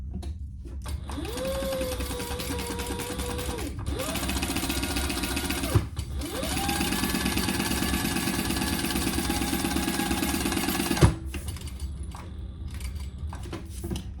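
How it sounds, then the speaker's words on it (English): A sewing machine stitches across the bottom of a triple-zip crossbody bag, its motor whirring steadily in long close runs, with two short pauses and a sharp click at each stop. "And now we're gonna stitch across the bottom."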